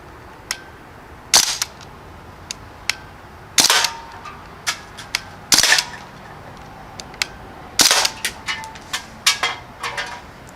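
A Crosman Panther Arms DPMS BB rifle firing in bursts: sharp, snappy cracks in quick clusters and single shots, spaced irregularly over ten seconds against quiet surroundings.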